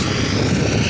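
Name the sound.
tractor approaching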